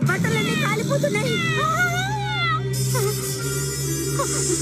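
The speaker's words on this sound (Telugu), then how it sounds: "థ్యాంక్స్ కిట్టి, నువ్వు మియావ్ అని అరిచి కాపాడావు" A cartoon cat meows in a Telugu-dubbed Doraemon episode, giving several rising and falling cries in a row over a steady music and effects bed.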